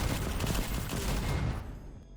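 Sustained gunfire and explosive bursts during an attack on a raider bunker in the strategy game Endzone 2, loud and dense for most of the moment before fading out near the end.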